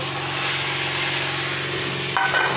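Cauliflower, potato and peas being sautéed in a pan of fried spices give a steady close sizzle with stirring scrapes, and a brief clatter of utensil near the end.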